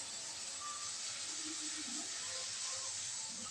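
Raw banana pieces sizzle in a pan of hot oil after a splash of water, a steady, even hiss of frying that carries on throughout with faint bubbling crackles.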